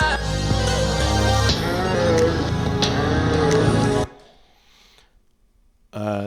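A chopped vocal sample from a track, pitched down three semitones and sped up 29%, plays as dense, harmonic, looping chops for about four seconds. It cuts to near silence, then a short burst returns at the end.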